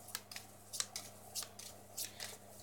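Tarot cards being shuffled by hand, a series of short crisp riffling and flicking bursts, about six spaced quick rustles, close and quiet over a faint low hum, with no speech.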